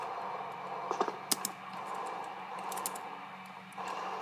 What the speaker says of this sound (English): You guys can probably hear my keys.